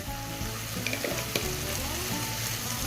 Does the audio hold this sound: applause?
no